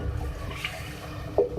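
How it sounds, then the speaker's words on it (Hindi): A cup of water poured into a pan of cooking tomatoes for a Hyderabadi aloo baingan curry gives a soft, short splashing gush, fairly faint and close. "अब मैं इसमें ऐड करूंगी 1 कप पानी।"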